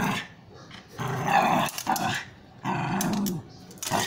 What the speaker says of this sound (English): There comes the growl.